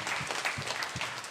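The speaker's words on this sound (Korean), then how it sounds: "박수 한번 쳐줘요" Applause from a church congregation during a sermon on Revelation, a short burst of scattered clapping at moderate level.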